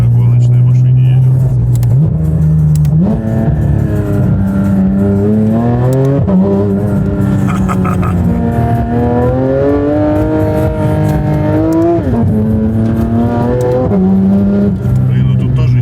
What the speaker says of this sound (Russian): А мы на гоночной машине едем.